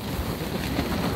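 A blizzard roars across a mountain campsite at Bafang Mountain, a dense, steady rush of wind noise buffeting the microphone without a break.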